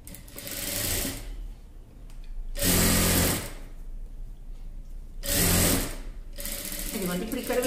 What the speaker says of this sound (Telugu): ఇక్కడ నుండి ఇప్పుడు ఇక్కడ వరకు ఇది స్టిచ్చింగ్ చేసేసుకొని